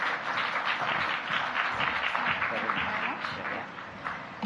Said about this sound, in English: Let's give her a clap as she comes to the front.